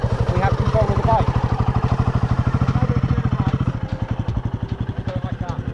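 A motorbike engine runs steadily during a practice ride on green-lane trail, its loud, close, throbbing beat holding an even pace with a slight roughness toward the end.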